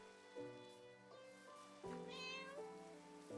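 A cat meows several times in a row, drawn-out and tonal with rising and falling pitch, close and clear over faint room noise with no speech.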